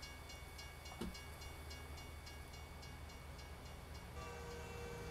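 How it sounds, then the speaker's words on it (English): A train passes a level crossing in the American Truck Simulator video game, heard as a faint, steady distant rumble with a brief horn-like tone early on and no talking. "I can hear the train now."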